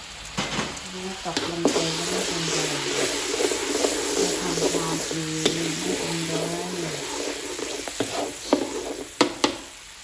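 Plenty of garlic frying in a pan: a strong, continuous sizzle with stirring scrapes and a few sharp knocks near the end, and faint background music beneath.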